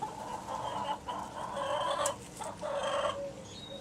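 Backyard hens cluck and murmur close by in a continuous, fairly loud chatter of short repeated calls, with no talking.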